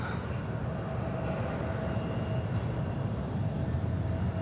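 A jet airliner roars steadily as it departs a runway at Atlanta Hartsfield-Jackson airport, a broad, constant rumble heard from a distance on a hazy day.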